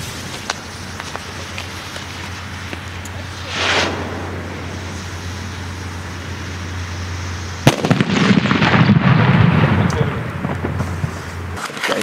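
A sharp firecracker bang cracks out from a 27.5-gram charge, then a broad rumbling burst of explosive noise follows for a few seconds, fairly loud and near.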